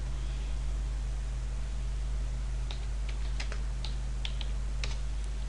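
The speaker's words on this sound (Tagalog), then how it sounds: "i-type natin ang kanta" Someone types on a computer keyboard in a quiet room with a low hum behind it: a loose run of light key clicks, denser toward the end.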